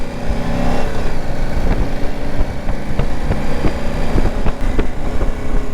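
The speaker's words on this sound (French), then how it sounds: "les motos de la police." BMW RT police motorcycles pass by with a steady engine drone, a loud, continuous rumble with occasional sharper clicks, and no one speaking.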